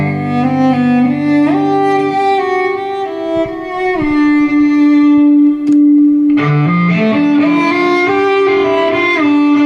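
A cello played through effects pedals, including a T-Rex and a Line 6 unit, with no distortion. Sustained, richly layered bowed notes shift pitch, pause, then return with sliding lower notes.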